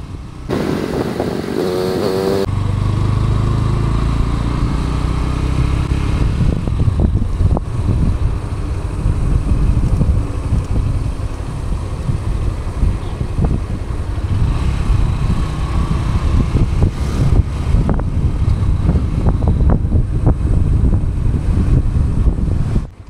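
Motorcycles ride along a rough road on a Kathmandu to Dharan trip, a loud sustained engine roar under heavy wind buffeting, with bumps and rattles scattered throughout.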